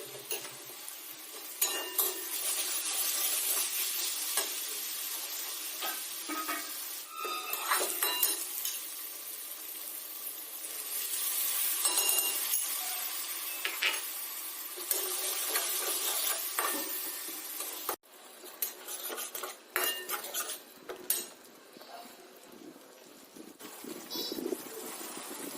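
A spoon stirs broccoli egg curry gravy with spice paste in a pan, giving soft scraping and occasional clinks over a faint, steady sizzle, with no talk.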